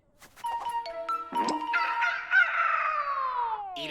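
Loud poultry calls fill the scene, warbling, gobbling cries rising and falling in overlapping bursts with no talking.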